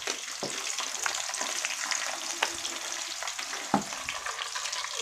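Fish that was first stewed as paksiw now frying in a hot pan, with a steady dense crackle and sizzle, occasional sharper pops and spatters, close and fairly loud.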